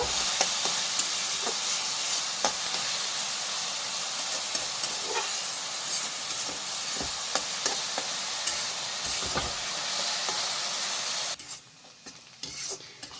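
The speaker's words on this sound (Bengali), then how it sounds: "পেঁয়াজটা আমি হালকা লাল করে ভেজে নেব।" Chopped onions fry in oil in a pan until lightly browned, giving a loud, continuous sizzle with scattered stirring clicks. The sizzle drops away sharply near the end, leaving a quieter hiss.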